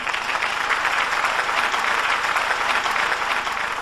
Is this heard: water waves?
no